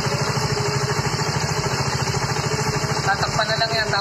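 A Yamaha Mio i 125 scooter fitted with 59mm stage 1 cams idles just after starting, close and loud, with a fast even chugging pulse and metallic rattle; people talk faintly nearby.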